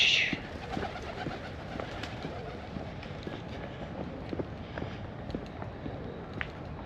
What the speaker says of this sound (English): Come on, pigeons.